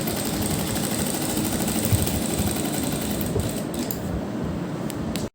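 A sewing machine runs steadily while stitching piping onto a butterfly neck design, a close, continuous mechanical whir with rapid needle chatter that stops abruptly at the end.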